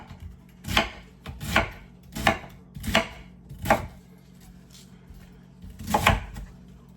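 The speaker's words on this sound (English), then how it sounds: "chop this up" Knife chopping cabbage on a cutting board in a home kitchen, six heavy thunking cuts at an uneven pace with short pauses between them, close and clear.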